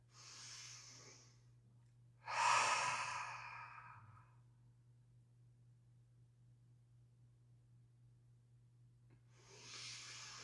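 A strong, loud yoga exhale with the tongue stuck out bursts out close and breathy, then fades. Softer breaths come before and after it over a low steady hum.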